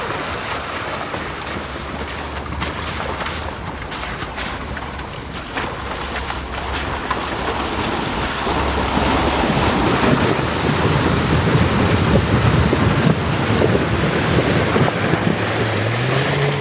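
A vehicle fords a shallow river about two to three feet deep in the Ouachita and Ozarks, with a continuous rushing wash of water and engine rumble building louder toward the end, alongside steady wind buffeting; no talking.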